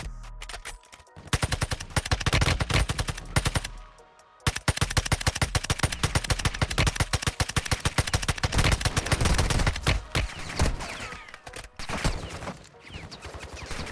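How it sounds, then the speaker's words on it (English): Dense automatic gunfire in the Warzone Mobile game, loud and continuous rapid bursts with a brief pause near the start and sporadic shots toward the end. "the whole lobby is shooting me!"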